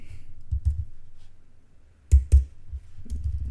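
A few sharp clicks of typing on a computer keyboard, a pair of close keystrokes standing out among softer taps over faint low background noise.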